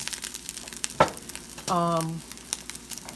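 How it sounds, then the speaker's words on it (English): Two scrambled eggs with fajita onions and peppers fry in a pan on a stovetop for an omelet, a soft sizzle broken by a clatter of utensil against the pan. "I'm making an omelet. I have 2 eggs here that I scrambled up with some fajita mixed"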